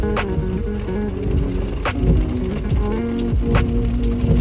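Rain falls steadily on a cold moving day, a dense close patter on surfaces with a few sharper drips and knocks standing out, and no voices.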